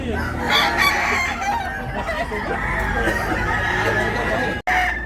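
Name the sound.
chickens and roosters at a poultry market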